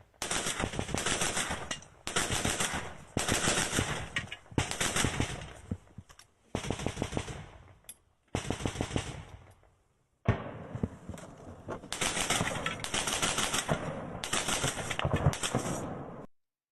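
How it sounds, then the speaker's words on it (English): An AGS 40mm grenade launcher fires in war footage, loud bursts of rapid repeated shots in several strings, separated by short gaps and ending in a long final volley. "we can see today that the Ukrainians were firing an AGS like a mortar at the Russians."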